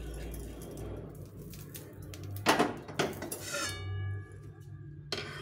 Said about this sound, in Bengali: আমুল দিস্তার মধ্যে গুঁড়ো করে নেব